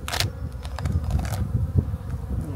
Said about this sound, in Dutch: Ja, ik zie er een paar bijtjes voorin zitten.